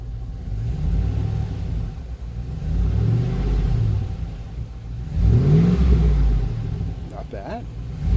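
A Buick Rainier fitted with a custom Flowmaster exhaust, revved a few times in a row, each rev a deep rising-and-falling rumble at moderate volume, with a short voice near the end.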